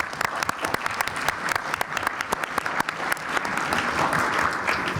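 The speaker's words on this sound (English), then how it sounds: "Let me request the audience to give a round of applause to the panelists who are here." Applause for panelists at an expert meeting session: many hands clapping in a dense, continuous stream with distinct sharp claps, swelling slightly toward the end.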